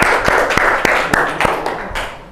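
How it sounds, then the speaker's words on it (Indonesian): An audience at a religious talk gives a group of presenters a round of applause, a dense patter of many hands clapping together with sharper individual claps, close and lively, fading slightly at the end. "Beri tepuk tangan yang meriah dulu."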